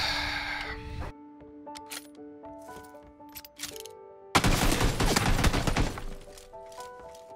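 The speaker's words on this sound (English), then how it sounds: "Where do those shots come from?" Gunfire from the PUBG battle royale game rings out in a sharp burst of shots, followed by a dense rattling volley midway, moderately loud amid game tones and effects.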